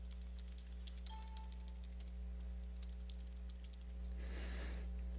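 Crisp clicks of a computer keyboard as values are typed in, several quick keystrokes in short bursts, quiet and close over a steady electrical hum.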